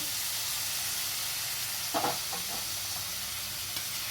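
Ginger frying in a pan makes a continuous even sizzle, broken by a brief scrape of stirring midway; no one speaks.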